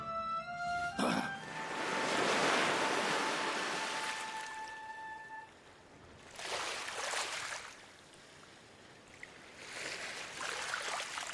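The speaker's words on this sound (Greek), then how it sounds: "Μα, η θάλασσα." Sea washing in broad surges, the Lidenbrock Sea of Jules Verne's Journey to the Centre of the Earth, with a loud swell, a quieter lull, then two more rushing waves, and a thin tonal hum in the first half.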